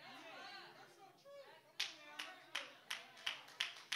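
Sparse hand clapping comes from a church congregation during a sermon: a few distinct claps in a loose, regular rhythm follow some quiet murmuring, fairly close and crisp.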